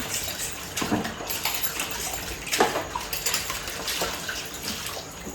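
Tap water running steadily into a tub for washing dishes in a home kitchen, a continuous broad splashing rush with a few louder surges, close by, with no talk.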